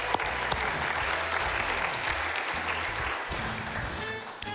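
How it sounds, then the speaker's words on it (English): A large audience gives a sustained round of applause for mothers on Mother's Day, a dense continuous roar of clapping with scattered voices and a faint tonal hum beneath, fading slightly at the end. "Big round of applause"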